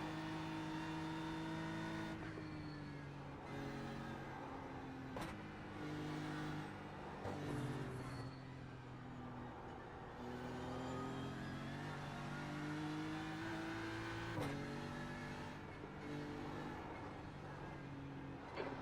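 A race car engine drones steadily during an endurance race, with clear harmonic tones that rise and fall through repeated gear shifts and revving, continuous for the whole stretch and heard from inside the car.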